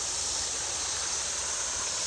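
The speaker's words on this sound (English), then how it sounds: "here's the little waterfall that you can hear and see right over there" A small waterfall in a low creek after heavy rain gives a soft, steady hiss of falling water, faint and continuous with no voices.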